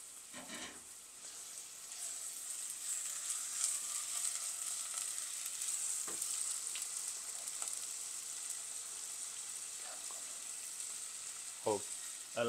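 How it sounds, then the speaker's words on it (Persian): Chicken pieces added to frying onions in a pot on a medium-high gas flame: constant bright sizzling and hissing with occasional stirring scrapes and clinks, close and steady. "الان مرغا رو اضافه میکنه"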